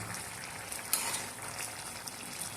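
Tamarind stew with raw mango, eggplant and sweet potato simmers in a pot, giving a steady, moderately quiet bubbling and hissing with no voices.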